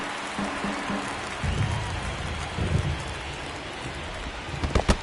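Rain comes down steadily on an outdoor baseball field during a game, a constant wash of drops with scattered low thumps and knocks mixed in.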